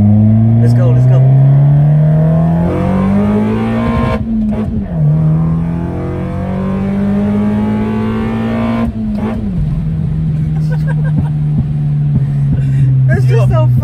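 A Toyota Corolla AE92 with a 7AFE engine on individual throttle bodies revs hard, its loud engine note climbing in pitch twice and dropping at each shift, heard close from inside the car.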